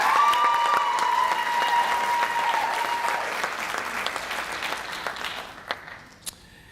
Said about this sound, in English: You can give him another round of applause.